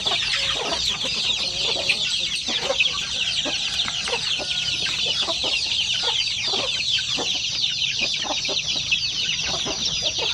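Basilan native chicks about forty days old cluck and peep continuously as a dense, steady flock, with no talk over it.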